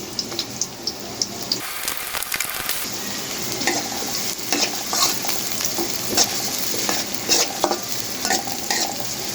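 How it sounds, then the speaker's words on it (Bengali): Chopped onions and dried chillies fry in hot oil with a constant sizzling hiss, broken by a louder burst of spattering and a few sharp taps of a spoon. "পেঁয়াজটাকে আমি একটু ভেজে নিব"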